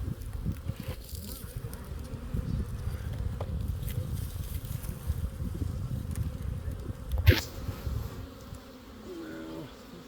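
Honey bees swarm around an open beehive during a hive inspection, a dense low buzzing hum that fills the whole stretch close up, with a brief sharper knock near the end and a faint voice in the background.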